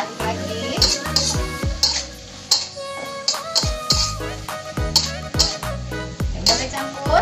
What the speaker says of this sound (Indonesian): Diaduk lagi.